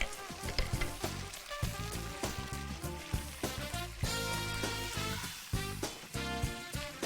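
Chopped chili and garlic stir-fry in a pan with a little soy sauce, giving a continuous close sizzle broken by repeated bursts of stirring and scraping.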